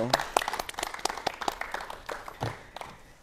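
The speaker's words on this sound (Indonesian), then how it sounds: "Tepuk tangan dulu." A small group claps in quick, uneven bursts, the sharp hand claps fairly close and separate rather than a dense roar.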